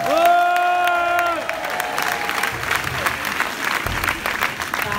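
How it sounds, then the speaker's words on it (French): Crowd at a strike meeting applauding and cheering, steady clapping with a rising whistle or shout at the start, the applause continuing dense and close throughout. "Je vous demande de faire du bruit pour Winissa, s'il vous plaît."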